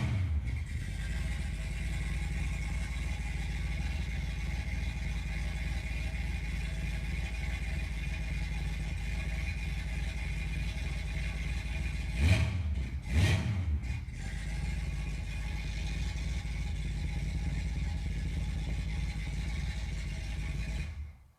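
A car engine runs steadily at idle throughout, a constant low mechanical drone, with two short sharp revs close together around the middle before it settles back to idling.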